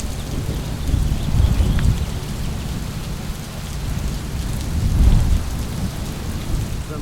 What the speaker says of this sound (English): Alas, the storm come again.